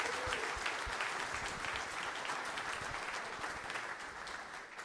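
Applause from a conference audience after a welcome speech at PCM17, sustained crowd clapping heard at moderate distance, fairly even and slowly tapering toward the end.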